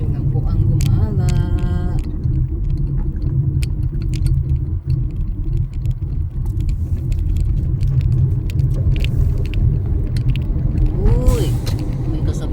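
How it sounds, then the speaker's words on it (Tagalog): A large vehicle rumbles alongside on a road trip home, a steady low drone with mechanical creaks and rattles throughout, while a person talks over it. "Uy, may kasabay tayong malaking sasakyan."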